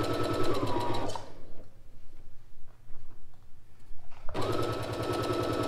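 A sewing machine runs a straight stitch seam, a fast, even mechanical chatter at first, then a pause of about three seconds before it starts stitching again at the same steady pace.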